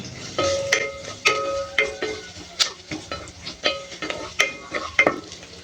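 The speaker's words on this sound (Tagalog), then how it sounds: "Gigisa na tayo guys. Lagyan ko na yung bawang tsaka sibuyas guys." Garlic and onion sautéing in a pan of plentiful oil, with repeated stirring scrapes and utensil clinks over a steady background sizzle, close and moderately loud, with no talking.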